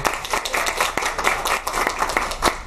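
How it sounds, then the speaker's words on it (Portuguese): An audience claps briefly at a Portuguese-language talk on data protection, a short burst of scattered hand claps without cheering. "Uma salva de palmas aí pro Marco."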